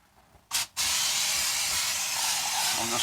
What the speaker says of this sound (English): just spraying this with a little bit of Pam